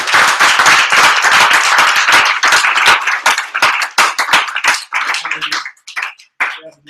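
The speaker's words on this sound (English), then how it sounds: "I think we should give Derek a big round of applause" A small group at a superhero drawing session claps for Derek, the sharp, close handclaps dense at first, then thinning into scattered individual claps and stopping.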